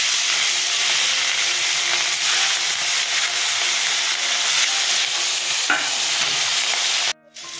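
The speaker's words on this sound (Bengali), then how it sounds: "বাকি মাছগুলো ছেড়ে দিচ্ছি।" Pieces of katla fish fry in hot oil with a steady, loud sizzle and hiss, stirred now and then, continuing without talk until it cuts off near the end.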